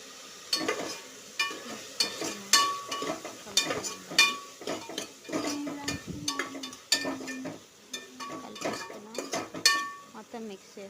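A spoon works turmeric into beetroot curry in a pan with repeated scraping strokes and sharp clinks against the metal, each stir landing in a steady rhythm, close and clear with a soft sizzle underneath.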